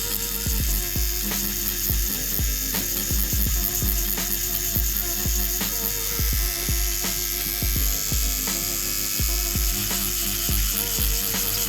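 A tattoo machine with a magnum needle buzzes steadily while shading a rose tattoo on a hand across the knuckles, a continuous close electric whine with faint rhythmic ticks and no talking.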